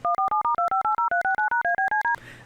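Dual-tone keypad beeps generated by an Octave script play as a rapid, even run of about fourteen short 100-millisecond tones, loud and clean, ending in a brief soft hiss.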